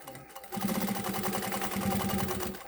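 A Sewtech SW-1968-L sewing machine punches steadily through a thick seam of 36 fabric layers, a dense rapid mechanical stitching rhythm starting after a brief pause and running loud and close to the end.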